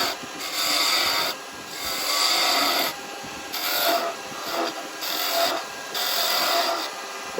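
A chisel cuts a wooden spinning top on a wood lathe in repeated scraping, hissing passes, each lasting about a second with short gaps between, loud and close without speech.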